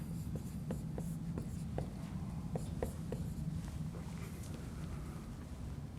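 Pen or pencil writing out a Maclaurin series by hand, a steady run of short scratchy strokes with small taps, close and fairly quiet over a low room hum, with no talking.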